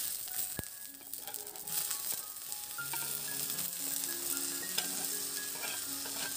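Carrots and green beans stir-fry with spices and a splash of water, a soft continuous sizzle with occasional utensil clinks and scraping, fairly quiet and close.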